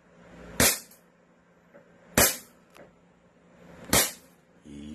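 An SRC Hi-Capa airsoft pistol fires three sharp, close snaps spaced about a second and a half apart, each followed by a faint mechanical click, in a quiet room.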